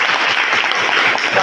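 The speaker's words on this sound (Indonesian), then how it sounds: "Tepuk tangan buat Kabupaten Bogor dulu" Applause from a crowd at a gathering of honorary teachers in Bogor Regency, Indonesia, steady and dense clapping filling the whole moment.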